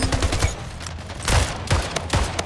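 Rapid bursts of gunfire from the video game Splitgate, sharp and loud, coming in quick clusters with brief gaps between them.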